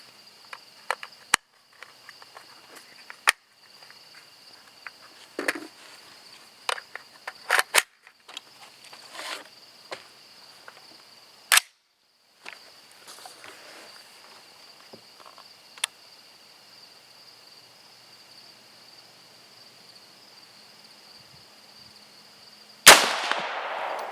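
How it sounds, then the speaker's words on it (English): An AR-15 rifle made by Dominion Arms fires one loud, abrupt shot near the very end. Before it comes a long stretch of steady outdoor insect chirping with scattered small clicks and handling taps. "So we're going to give it a try out of the Dominion Arms AR-15."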